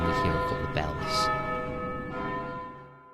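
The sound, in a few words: bells ringing in the video game Vagrant Story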